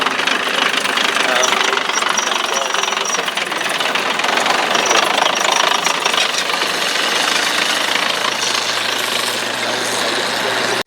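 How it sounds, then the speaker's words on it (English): A World War II tank with a Cadillac engine at a tank show runs loudly with a rough, knocking mechanical roar and heavy vibration. A voice talks faintly underneath. "And a new Cadillac engine in the back."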